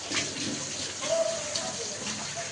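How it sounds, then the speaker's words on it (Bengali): Plates and bowls being washed under running water in a home kitchen; a steady, close rush and splash of water continues throughout the short stretch. "এখন এই তো আমি কিছু প্লেট বাটি ছিল ওগুলো ধুয়ে নিচ্ছি"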